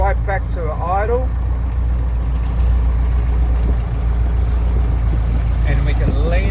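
A CA18 engine settles to idle around 1000 RPM on an engine stand, a steady low droning rumble that stays constant throughout, with faint voices briefly at the start and end.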